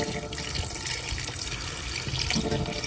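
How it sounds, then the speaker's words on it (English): Water runs steadily into a pressure cooker of Trini-style curry cow heel, a continuous close pouring and splashing stream with no talk. "I'm just gonna add some water"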